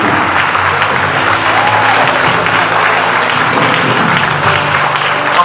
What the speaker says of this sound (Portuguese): Pode aplaudir isso aí.